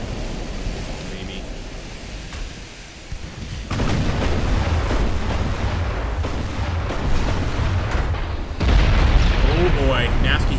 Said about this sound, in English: Oh boy, nasty hit there with the torpedoes.